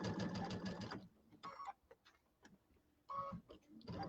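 A sewing machine stitches a quarter-inch seam on a quilted table topper, running in close bursts of fast, even mechanical chatter separated by short quiet pauses with small handling clicks.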